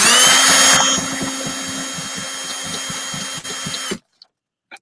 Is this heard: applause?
no